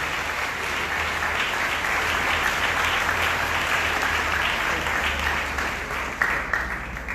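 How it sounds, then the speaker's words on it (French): A church congregation at a Sunday worship service breaks into loud, continuous applause, the crowd clapping steadily over a low background hum before thinning slightly at the end. "nous avons demandé que vous applaudissiez Saint-Esprit qui est dans la vie Pasteur Joël"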